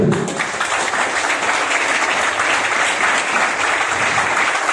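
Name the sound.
audience applauding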